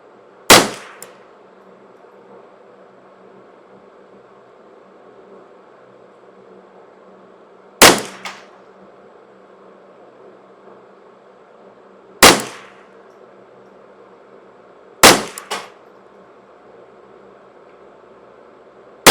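Ruger 10/22 rifle firing CCI standard velocity ammunition outdoors, five sharp, close cracks spaced several seconds apart, each with a short ringing decay over a quiet background.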